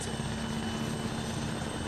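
Helicopter from ArmA 3 in flight, a steady loud rotor and engine drone that holds at constant level throughout, with no talk over it.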